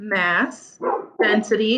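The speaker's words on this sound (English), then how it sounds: "I apologize about my dog." A pet dog barks and yips in short bursts close by, mixed in with a person speaking over it.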